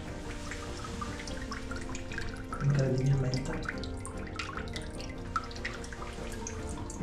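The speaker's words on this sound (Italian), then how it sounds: "un rubinetto, scusate, che sta buttando fuori acqua" Water runs from an old tap in a cave-like rock-cut room of a villa, a steady trickling and dripping that goes on throughout. It swells briefly midway, and someone speaks once over it.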